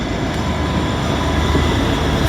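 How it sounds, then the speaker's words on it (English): A train passing over a railway flyover at North Melbourne Station rumbles steadily and loudly, a continuous close wash of wheel and rail noise with no voices. "Still a train going over the flyover."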